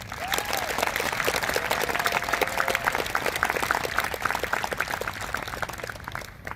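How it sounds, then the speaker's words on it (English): Applause for the Lawrence Middle School band at a school culmination ceremony, a steady crowd clapping at moderate distance, dense and even for several seconds before tapering off. "applause for the Lawrence Middle School band."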